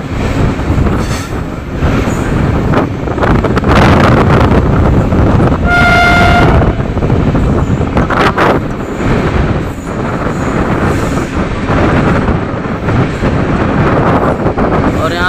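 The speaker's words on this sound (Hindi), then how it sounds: "हर ट्रेन जो है स्लो स्पीड में स्किप करती है इस घने जंगलों के बीच में।" A train moves slowly through dense forest in the Valmiki Tiger Reserve in Bihar, with a steady loud rumble of wheels and carriages and a short horn toot midway, while someone talks over it.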